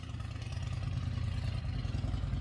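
A neighbor's car engine runs with a steady, low, rumbling idle at moderate distance and holds an even level with no clear rev.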